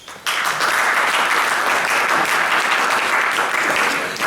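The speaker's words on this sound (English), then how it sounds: "I realise you're only clapping to warm your hands up" Sustained applause from an evening audience gathered at a talk on poverty, starting abruptly after a brief quiet moment and holding steady and loud as dense clapping throughout.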